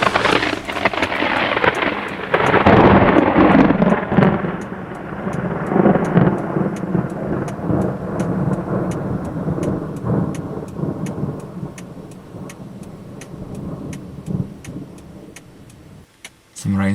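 Thunder from nearby lightning strikes during a Florida storm rumbles loudly and rolls for several seconds, then fades into a steady wash of rain and wind, with a sharp crackle returning at the end.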